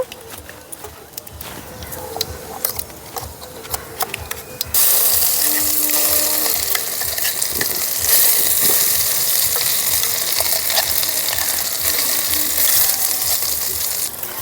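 Mashed green peas frying in oil with cumin and asafoetida crackle and sizzle loudly, starting abruptly partway through and continuing steadily with occasional scraping stirs.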